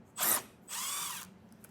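A power drill driving a T15 Torx bit backs out screws while a trailer hitch is fitted to a 2025 GMC Terrain, heard as two close whirring bursts, a short one then a longer one, with quiet gaps between.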